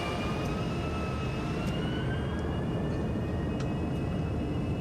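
FSS E-Jet engines spooling up for takeoff in Microsoft Flight Simulator 2020, a steady broadband roar with a thin whine rising slowly in pitch, no talking.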